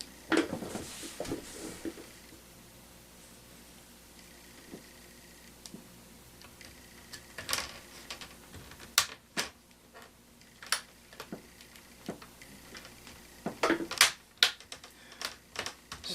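An ASUS U31SD-A1 laptop screen bezel is pressed back on, giving a scattered series of sharp plastic snaps and clicks, close and fairly quiet, with brief pauses between and no talk.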